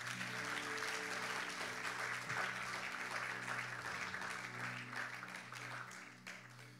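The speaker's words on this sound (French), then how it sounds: "Acclame très fort, on va avancer." A church congregation claps and applauds in a dense, continuous wash of sound that holds steady for several seconds before easing slightly, with a faint sustained musical tone beneath.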